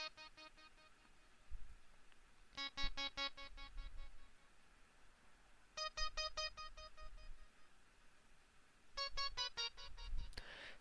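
Bright synth melody of repeated beeping notes in a beat being produced, played in three or four short bursts of rapid stepped tones separated by brief pauses, with a soft low thump underneath.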